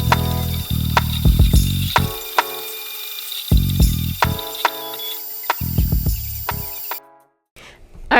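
A 3D printer printing a vortex fidget toy whirs and steps in short tonal bursts with ticking motor movements, moderately loud and close, going quiet near the end.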